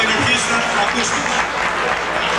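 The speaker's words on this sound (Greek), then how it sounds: "Δώστε τους ένα μεγάλο χειροκρότημα." An audience at a community dance applauds in a loud, dense burst of clapping that continues steadily throughout, with a voice heard over it.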